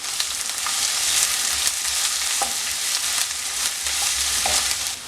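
Ginger and garlic fry with coconut pieces for a soya chunks roast, giving a dense, even hiss of sizzling oil close up with a few faint clinks.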